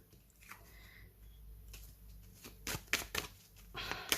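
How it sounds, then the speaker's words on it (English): Tarot cards are shuffled by hand in a quiet room, with soft rustling and a few crisp bursts of flicking and riffling that grow louder toward the end. "Let's shuffle some cards and see what they have to say"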